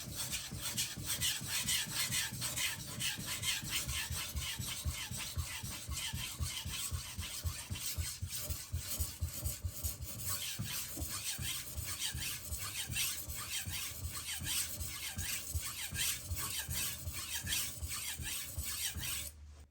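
A Karaku AS gyuto 210mm chef's knife is drawn across a wet whetstone in steady, full-length sweeps, producing a continuous close gritty rasp with a regular back-and-forth rhythm and no voices.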